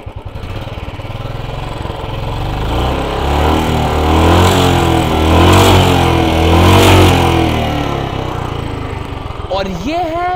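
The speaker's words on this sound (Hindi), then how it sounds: "और ये एक किक में गाड़ी स्टार्ट हो जाएगी," A Royal Enfield Bullet Standard 346 cc air-cooled carbureted motorcycle engine kick-starts in one kick and runs loud and close, revving up and easing off in waves before a brief higher whine at the end.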